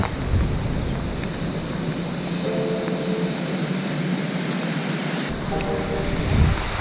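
Rain falls steadily over Warsaw at night, a dense, continuous hiss of drops close by, with faint background rumble and a brief low thump near the end.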